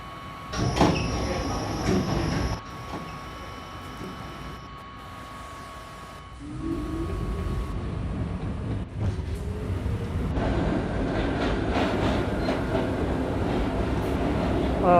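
An M line subway train running, with steady rumble, rattling wheels and faint squeals from the rails, close and loud, plus a thud like a door between cars.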